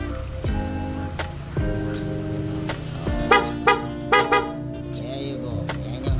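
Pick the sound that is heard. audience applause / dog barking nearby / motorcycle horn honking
motorcycle horn honking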